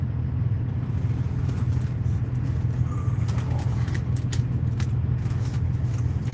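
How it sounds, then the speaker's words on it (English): A truck sits at high idle right alongside, its engine giving a constant deep droning hum with a steady low pulse, heard from inside a nearby cab with faint clicks over it. "This truck's idling next to me, high idle."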